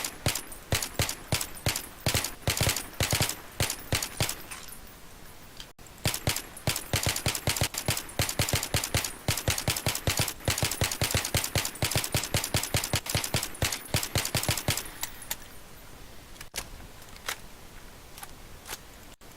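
M4A1 assault rifle in a video game firing long sustained automatic bursts, rapid evenly spaced loud shots with a brief gap midway, tapering off near the end.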